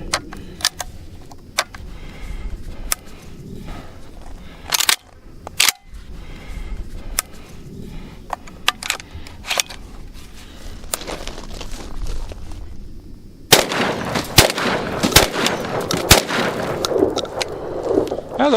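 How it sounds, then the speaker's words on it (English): A Legacy Sports Citadel Boss Hog semiauto 12 gauge shotgun fires heavy 7.5 shot target loads, giving a series of sharp, loud blasts spaced irregularly, with denser noisy bursts near the end. "I'm going to try shooting 5 rounds and see what happens."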